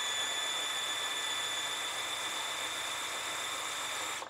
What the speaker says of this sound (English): I got my drill up here